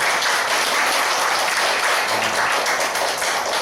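A church congregation at a Sunday service claps together in a steady, loud wash of applause that fills the room without a break.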